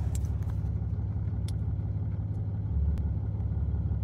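A Cummins diesel truck engine idles with a steady low rumble and an even, fast pulsing clatter, heard close and constant with no talk.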